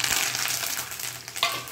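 Red and green chillies and curry leaves sizzle in hot oil with fried lentils in a frying pan for pulihora, a close, loud, steady crackling hiss with a sharper spit near the end.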